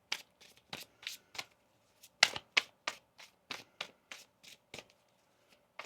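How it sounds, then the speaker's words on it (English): Tarot cards from the Monica Louv deck being shuffled: a quick run of crisp, close papery riffles and taps that come in uneven bursts and then thin out to a few soft flicks. "One more shuffle here."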